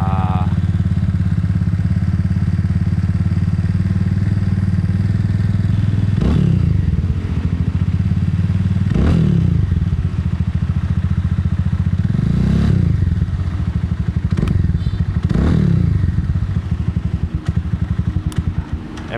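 Cleveland Cyclewerks Ace Scrambler 250 motorcycle engine idling nearby, a steady low rumble with periodic louder blips and clattery thumps every few seconds, heard alone without talking.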